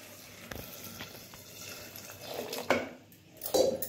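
Water is poured into a pressure cooker holding corn in a home kitchen, with faint splashing swells and a couple of louder pours near the end.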